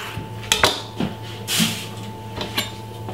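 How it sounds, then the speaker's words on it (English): A knife scrapes the skin off a piece of ginger, with sharp scraping strokes and a few clinks against a board or dish, spaced irregularly over a quiet kitchen background with no talking. "Remove the skin from the ginger."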